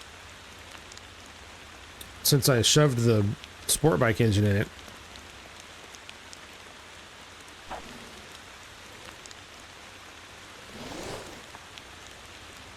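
Constant patter of rain on a surface in the video game Motor Town fills the scene, with someone talking in bursts over it.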